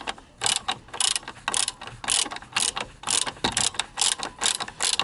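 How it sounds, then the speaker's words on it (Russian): Ratchet wrench loosening bolts that hold a door hinge bushing on a Lada Granta, with rapid repeated clicking strokes in an even rhythm, close and clear. "Откручиваю вот эти вот болты, которые держат"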